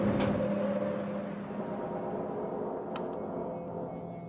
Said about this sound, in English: The cars slow, then come to a stop, powering down